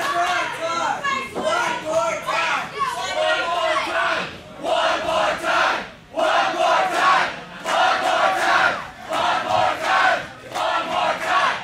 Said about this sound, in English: Crowd chanting for Funny Bone.